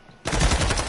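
Video game gunfight gunfire bursts in abruptly as a loud, dense rattle of rapid automatic shots after a quiet moment, continuing steadily to the end.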